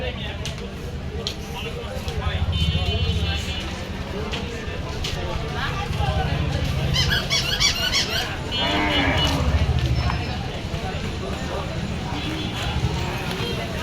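Cattle lowing and mooing at a busy livestock market ahead of Qurbani, several moos rising over a dense crowd of voices and chatter, with hoof clatter and squeaks in the background.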